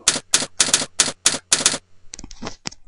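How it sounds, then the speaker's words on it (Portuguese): Fast, crisp keystrokes on a computer keyboard sound close and loud in quick rhythmic bursts, ending in a few lighter scattered taps. "Deixa eu digitar rapidinho aqui."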